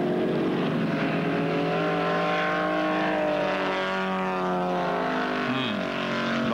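Race cars at Bathurst in 1979, including a Holden Dealer Team car, howl with loud engine notes that rise and fall as they shift and pass close by.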